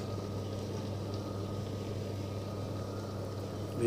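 The motor of a top-loading automatic washing machine spins with a steady low hum and a rough, whirring drone, close and constant until a brief rise at the very end, with no speech.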